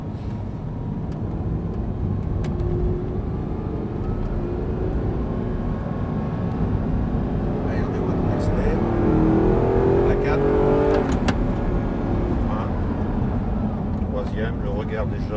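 Audi R8 driven on the Lohéac race track, its engine droning steadily in the car's cabin, swelling slightly midway, with someone speaking over it throughout.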